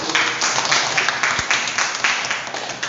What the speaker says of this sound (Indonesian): tepuk tangan untuk Bu Yayu